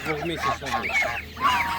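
Several geese at an animal market in Ivano-Frankivsk give loud, close, overlapping honks and nasal cackles, with a voice faintly mixed in.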